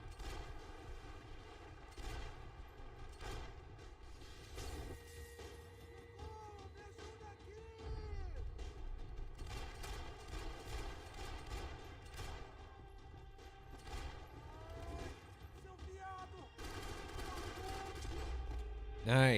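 Blind-fire gunshots in the video game Max Payne 3 come in quick, rattling bursts over game music and ambience, fairly faint and mixed with someone talking.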